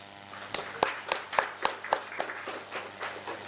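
A sparse run of about seven distinct hand claps at a Telangana business event, fairly close and evenly spaced, fading into a few softer claps rather than a full ovation.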